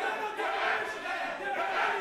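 A wrestling audience at a 3 vs 3 tag team match chants and shouts for Keke, a loud, sustained crowd roar swelling in rhythmic waves.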